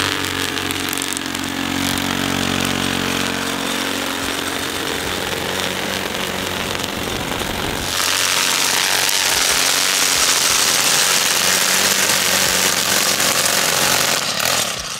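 A gas string trimmer edges along a concrete sidewalk, its engine whining steadily up close, then biting harder into the edge about halfway through with a louder, gritty buzz of cutting and debris.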